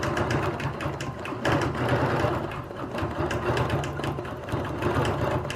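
A sewing machine does free-motion quilting, stitching a flower pattern with rulers. It runs in a fast, continuous mechanical chatter with slight speed surges, close and loud, with no talk.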